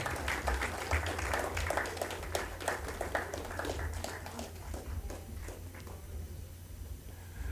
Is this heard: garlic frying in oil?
no